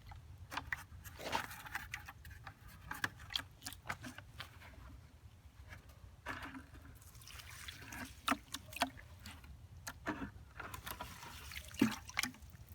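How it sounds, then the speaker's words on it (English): Water poured onto dry garden soil taken from a container: quiet, close trickles and drips come in intermittent bursts, running off rather than soaking in. "I'll pour some water onto some soil that I removed from one of the containers."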